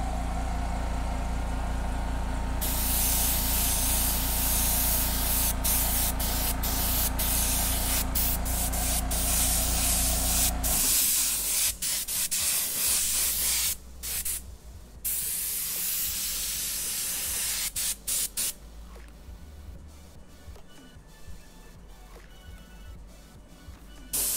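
An airbrush sprays paint onto custom cornhole bags, a loud continuous close hiss with a low compressor hum beneath, then a run of short on-off bursts that thin into a quieter, steadier airy spray.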